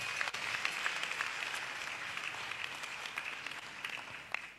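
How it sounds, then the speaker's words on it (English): An audience at a launch event applauds a professor, a broad even wash of clapping from many hands that holds steady for several seconds with a few sharper claps near the end. "Let's give him a round of applause."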